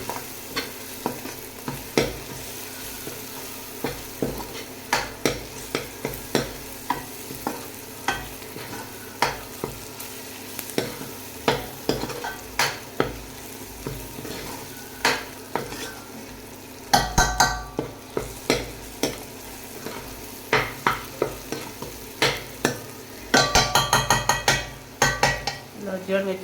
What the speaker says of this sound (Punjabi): ਤੜਕਾ ਤਾਂ ਭੁੱਜ ਚੁੱਕਾ ਵਾ